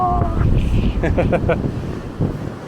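Wind gusts buffet the microphone on the beach at Flagler Beach at high tide, a close rumbling roar, with a brief voice-like sound partway through.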